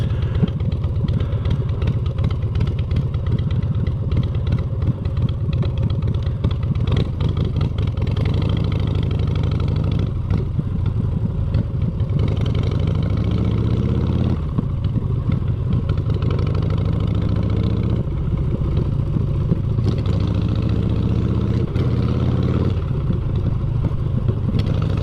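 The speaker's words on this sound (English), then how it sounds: "on this motorcycle, this isn't a high revving bike. This is like a low revving bike." Low revving motorcycle engine on a ride through Lawrenceville, a steady loud rumbling idle with gentle rises in revs, heard close and continuous for the whole stretch with no talk.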